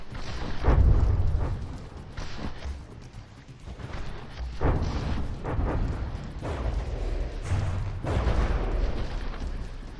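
Repeated booming naval gunfire and explosions from warships battling in the From the Depths game, heavy blasts landing in clusters and rolling into rumbling decay, loud and continuous without speech.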